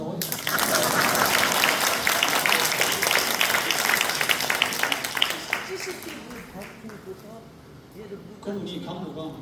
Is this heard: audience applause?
yes